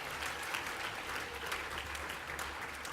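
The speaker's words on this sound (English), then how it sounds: "Another big round of applause for St Joseph's and Sacred Heart." Audience applause at a school performance by St Joseph's College and Sacred Heart Primary School, a dense, even wash of many hands clapping from a crowd at a distance, with no talking.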